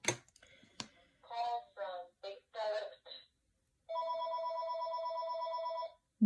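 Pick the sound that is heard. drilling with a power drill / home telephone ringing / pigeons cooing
home telephone ringing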